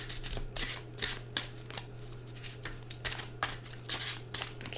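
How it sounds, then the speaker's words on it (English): Tarot cards being shuffled: a steady run of soft, crisp riffling bursts repeating in quick rhythm, close and fairly quiet over a faint low hum. "Let me shuffle a little bit longer."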